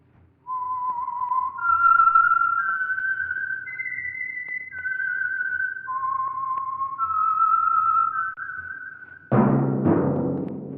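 A lone whistler carries a slow, wistful melody of sustained notes as the theme signal of the Signal Oil Program radio show, ending in a sudden loud orchestral burst.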